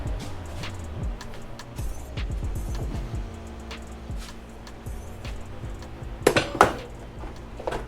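A metal oil drain pan is fetched and handled in a garage during a first oil change, giving clanks, scrapes and clatters through the first few seconds and several sharper metallic knocks near the end, close by and fairly loud.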